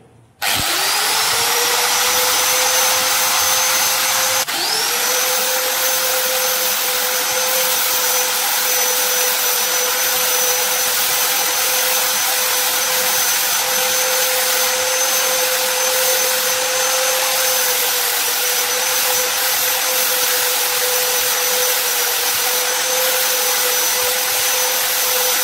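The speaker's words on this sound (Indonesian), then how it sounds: "langkah selanjutnya kita rapihkan menggunakan gerinda amplas ya" A steady, high-pitched whine of a sanding grinder smoothing solder, running continuously with a brief dip and restart early on, loud and close, no talking.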